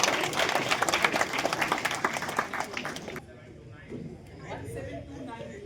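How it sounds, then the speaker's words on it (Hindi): Loud applause from a school math competition audience fills the first three seconds with dense clapping, then drops to quieter crowd chatter and scattered sounds. "तालियां बजती रहनी चाहिए।"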